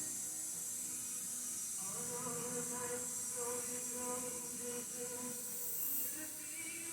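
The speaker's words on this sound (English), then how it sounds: "We got an air compressor on." A small air compressor running to inflate a leaking tire during a quick roadside-style repair, a faint steady hiss and hum with a soft rhythmic pulse, fairly quiet throughout and with no talking.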